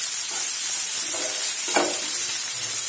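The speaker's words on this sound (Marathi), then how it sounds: "आलं लसूण पण छान परतून घेऊया" Onion and ginger-garlic paste sauté in a pan, giving a steady, close sizzle with a faint scrape of stirring partway through. No one talks.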